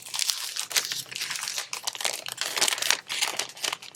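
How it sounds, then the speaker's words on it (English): Sheets of a crafting paper pad crinkling and rustling as it is opened and handled, a close, continuous run of crisp bursts with no talk. "So let's dig into this paper pad."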